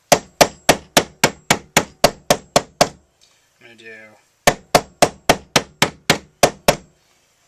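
A hammer strikes a wooden board with the tool laid on its side, in two runs of about ten sharp, evenly spaced whacks separated by a short pause with a brief scrape and a few spoken words.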